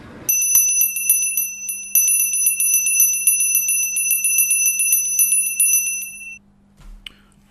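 Small electric bells ringing in a rapid, steady trill for about six seconds over a low hum, close and fairly loud, then stopping abruptly with a faint click.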